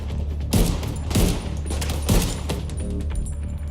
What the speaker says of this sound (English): when I'm shooting this guy with this rifle, the rifle kicks back quite a bit